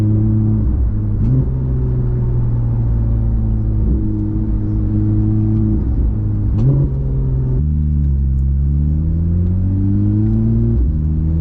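A Porsche 991.1 GT3 RS engine pulls away, a loud close rumble with stepped rises in pitch as it accelerates and briefly eases off, heard alone without talk.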